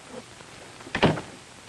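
An office door swings open in one brief burst, a close, muffled thunk with a slight creak, standing alone against quiet room tone.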